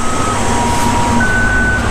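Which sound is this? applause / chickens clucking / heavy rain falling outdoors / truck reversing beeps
truck reversing beeps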